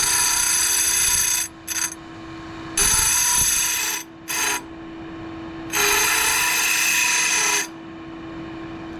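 A grinding wheel dresses a Stihl 400c chainsaw chain in short, loud high-pitched grinding bursts, three main passes with brief touches between, over a steady motor whine.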